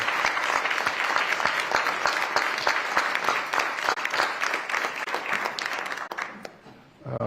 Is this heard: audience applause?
yes